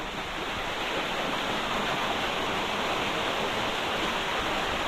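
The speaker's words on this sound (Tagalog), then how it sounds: "Ito na yung pangalawang ano guys, falls." A waterfall on the Labi River in Bongabon roars steadily and close, a dense, unbroken rush of falling water filling the whole stretch with no voices over it.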